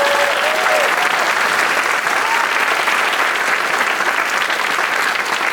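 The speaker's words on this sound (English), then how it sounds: "Thank you again to our panelists, please. Round of applause." Audience applauds panelists after a panel discussion, a loud, dense, continuous round of clapping lasting several seconds, with a faint voice or cheer early on.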